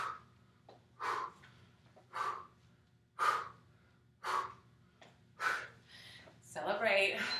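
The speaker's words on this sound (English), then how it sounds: "Deep breaths." Heavy breathing during a workout repeats about every second, seven forceful exhalations or gasps with quiet pauses between them, close and alone.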